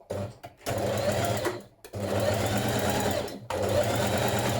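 A sewing machine runs in steady bursts while stitching a dress flounce to reinforce the bodice point, loud and close, with two brief pauses between long runs and no talking.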